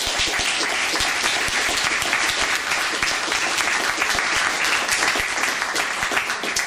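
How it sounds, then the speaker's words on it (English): Loud, sustained clapping from a public meeting audience thanking a discussion panel, dense and even throughout, close and full. "ask for a round of applause for the full panel"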